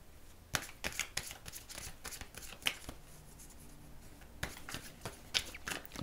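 Tarot cards from a mirror deck are shuffled and drawn, producing a quiet run of crisp riffling snaps and flicks in irregular bursts, up close with no talking.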